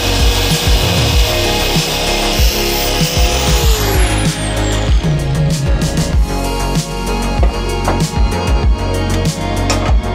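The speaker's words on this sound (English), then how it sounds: "we're gonna use this to grind the paint. This is like a, I call it like a finger grinder or a finger sander" A small finger grinder, or finger sander, grinding paint off the upper radiator support of a Toyota AE86, loud and close, a continuous high abrasive whine with rhythmic scraping bursts and one falling pitch sweep as the motor slows.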